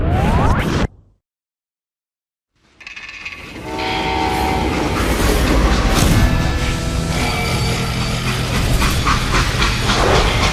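A freight train in the video game Call of Juarez Gunslinger. After a brief dead-silent gap, it comes in as a loud, steady rumble with clattering wheels and sustained horn-like tones, with no talking.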